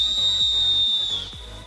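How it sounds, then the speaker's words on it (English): A sustained shrill whistle blown at dawn by cadet pilots at the Bangladesh Marine Academy holds one steady high pitch for about a second, then drops slightly and fades, with faint background noise beneath. "Their job is to maintain the routine by blow up the whistle before every event."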